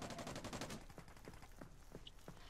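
Gunfire in the video game America's Army Proving Grounds, starting with a rapid burst of automatic fire and followed by several spaced single shots, faint and somewhat distant, with no talk over it.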